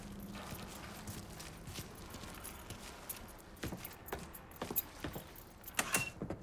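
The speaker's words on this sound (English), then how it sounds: "Keys in the other room. Grab them so we can get the hell out of here." Keys picked up and jangling in Mafia 3, quiet metallic clinks and rattles that grow busier and louder toward the end over a faint background hum.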